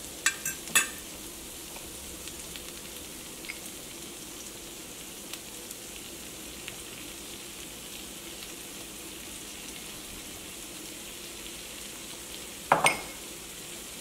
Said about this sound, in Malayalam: ചിക്കൻ ഒരു മുക്കാ ഭാഗം മുരിഞ്ഞിട്ടുണ്ട് ചിക്കൻ്റെ ഉള്ളൊക്കെ നന്നായിട്ട് വെന്തിട്ടുണ്ട്